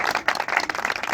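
Audience applause at an evangelical sermon, with dense, steady clapping throughout, fairly close and lively, with no talking over it.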